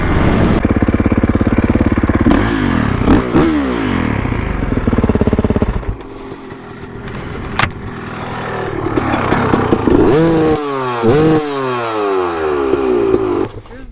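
A Kawasaki KX450X dirt bike engine revs hard and loud up close, climbing and falling through quick gear changes with a sputtering idle dip midway before roaring again.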